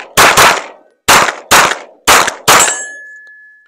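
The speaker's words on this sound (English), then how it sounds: "Gun is out, and I'm going to fire 4 shots or 8 shots total." Handgun firing eight shots in a practice drill at a steady starting cadence, sharp loud reports arriving as a single shot then pairs, each with a short ringing tail, the last fading into a thin lingering tone.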